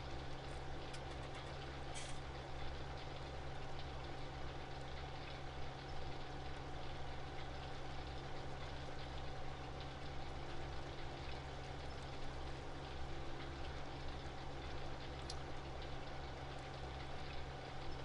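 A Case Optimum tractor engine in Farming Simulator 2017 hums at a steady low idle-like drone, faint and unbroken throughout with no talking.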